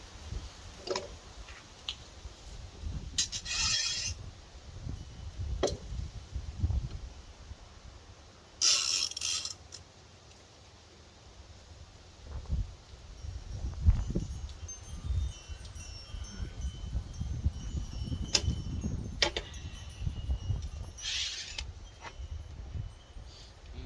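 Woodworking clamps being tightened on a glue-up, giving scattered ratcheting clicks and mechanical ticks at close range, with short sharper bursts between quieter stretches and no talking.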